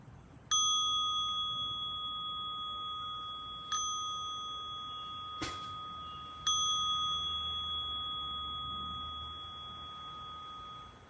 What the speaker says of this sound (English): listening for the sound of the bell